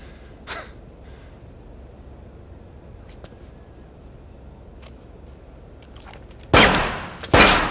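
Gunfire from the video game InFAMOUS: Second Son: after a faint early shot and a quiet stretch, two loud, sharp bursts of shots crack out close together near the end.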